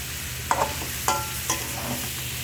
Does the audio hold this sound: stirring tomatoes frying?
yes